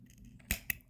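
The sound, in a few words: small scissors snipping yarn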